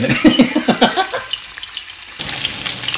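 Pork belly frying in oil for garlic adobo, a loud close crackling sizzle with bursts of spattering and stirring, briefly quieter before the steady hiss resumes.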